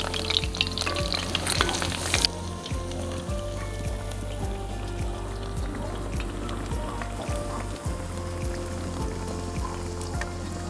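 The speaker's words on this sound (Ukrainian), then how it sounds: "для того, щоб вони добре просмажились, необхідно перевертати по декілька разів на кожну сторону" Deruny, Ukrainian potato pancakes, frying in oil in a pan, giving a continuous crackling sizzle that is brighter at first, then settles under a steady low hum with faint periodic knocks.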